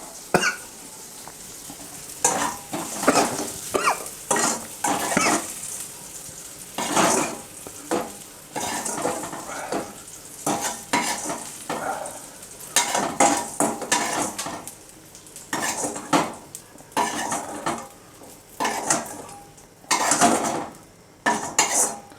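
Roasted green chillies lifted out of a pan with a metal utensil while roasting, repeated scraping and clinking of metal on metal in uneven bursts, with faint sizzling beneath and no talking.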